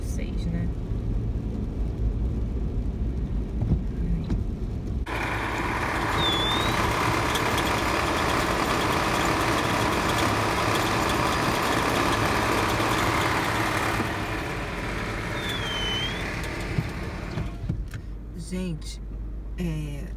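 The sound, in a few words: buses idling and passing in the street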